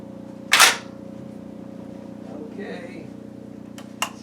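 A Century Arms C308 rifle fires one loud, sharp report at an outdoor range, with a steady hum underneath, faint murmuring, and a second, fainter crack near the end.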